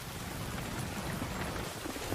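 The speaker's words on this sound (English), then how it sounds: "雨ってこんなに降るんだな" Heavy rain pours down in a scene from the Attack on Titan anime, an even, dense hiss of falling water that stays constant and fairly quiet, with no voices.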